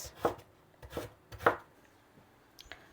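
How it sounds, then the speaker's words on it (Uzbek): A knife chopping carrots into small cubes on a board, with four crisp, separate knocks spaced out over a couple of seconds, close and clear in a quiet kitchen, then a faint last tap. "Sabzini ham mayda qilib to'rtburchak qilib to'g'rab olamiz."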